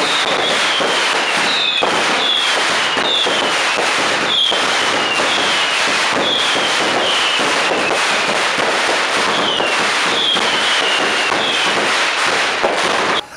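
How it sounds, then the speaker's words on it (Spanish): Fireworks go off at the chupinazo festival in San Miguel, a rapid, loud series of rocket whistles and cracking bangs repeating about once a second, dense and outdoors, with no talking. "el clásico chupinazo con una colección de fuegos artificiales"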